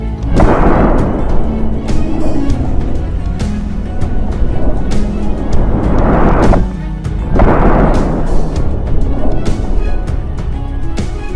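Heavy, deep blasts of an artillery gun firing roll out in a few loud booms, each swelling and fading, with constant rumbling noise between them.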